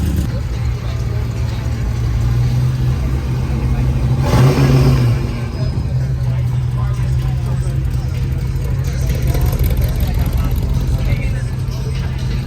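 A loud hot rod engine with open headers, a 350, rumbles steadily, with a brief rev surging midway, while people talk nearby over the throaty idle.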